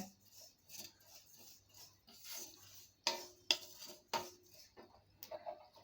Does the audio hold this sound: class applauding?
no